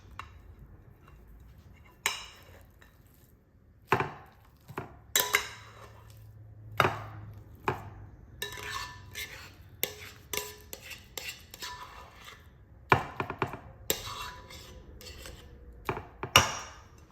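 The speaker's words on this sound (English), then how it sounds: "We're gonna put it in a 9 by 13 dish." Creamy crab dip with cream cheese scraped from a mixing bowl into a 9 by 13 dish, scattered spoon clanks and utensil scrapes against dishware in a quiet kitchen.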